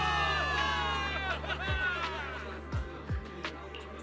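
A game crowd in Zenless Zone Zero cheers for victory, a dense roar of whoops and babble under music, with a few deep booming hits partway through.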